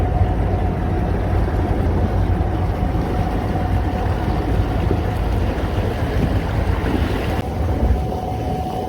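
A fishing boat cruises on course lock under a Lowrance Ghost trolling motor, with a constant wash of water and heavy wind buffeting the microphone. A faint steady whine runs underneath, and no one speaks.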